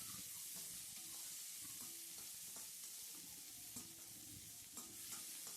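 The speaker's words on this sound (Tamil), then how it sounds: "வெங்காயம் ஒரு மூணு வெங்காயம் பொடி பொடியாக அரிஞ்சு வதக்கணும்" Three finely chopped onions sauté in hot oil for a noodle dish, giving a quiet, continuous frying sizzle broken by intermittent scraping and stirring sounds throughout.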